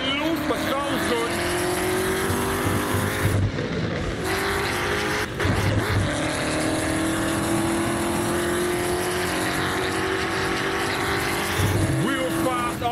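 A muscle car engine in the Assetto Corsa racing game roars loud and steady throughout, with brief dips in revs and faint tire squeal, while someone talks over it at times.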